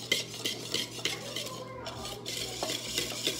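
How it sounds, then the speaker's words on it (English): A spoon stirs cream into a crème brûlée mix in a bowl, giving rapid, close clinking and scraping strokes in a quick steady rhythm, with no talking. "we're supposed to add the cream from before a little bit at a time and stir it"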